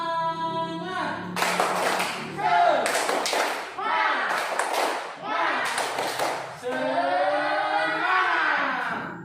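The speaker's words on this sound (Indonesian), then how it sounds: "kita tepuk semangat dulu. Tepuk semangat." A classroom of students performs a rhythmic spirit clap in bursts, loud and close, with children's voices chanting along between and over the claps.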